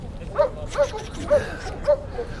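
An East Siberian Laika at a hunting-dog show gives four short, evenly spaced yips, faint and distant against a murmur of background noise.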